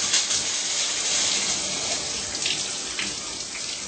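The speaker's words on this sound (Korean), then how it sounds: "샤워 꼭지에 물을 틀어 거울에 뿌린다." Water from a shower head spraying onto a bathroom mirror, a continuous loud hiss and splash that barely changes across the clip, with no voices.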